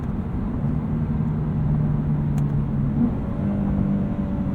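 A 2022 Lexus RC 350 F Sport AWD engine pulls hard toward its roughly 6,700 RPM redline, a steady cabin-heard drone with rising engine tone under road noise, fairly moderate in level.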